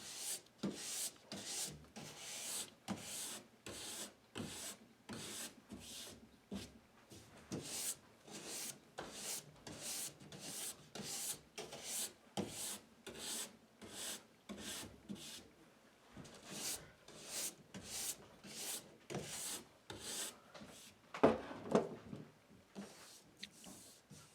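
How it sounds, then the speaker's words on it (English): A bronze brush scrubs old wax off the base of cross-country skis, a dry bristly rasp in fast rhythmic strokes repeating steadily at close range. "go back to my bronze brush and scrape away"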